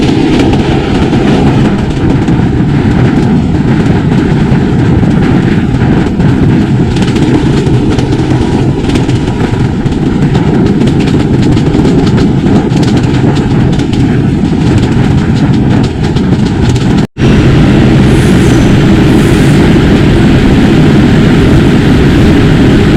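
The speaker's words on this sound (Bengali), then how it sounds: "এর জন্য এই ইঞ্জিনটা ডিজেলে চলে।" A diesel locomotive engine on the Sundarban Express rumbles loudly and continuously up close, a heavy droning roar with a brief dropout near the end.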